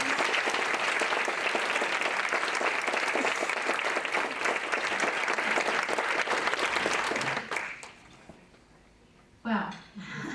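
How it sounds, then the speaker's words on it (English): Sustained applause from a large crowd at a women's business awards ceremony fills most of the clip, then tapers off, leaving a brief quiet before a short burst of clapping returns. "would you please join me in a round of applause for each one of those people."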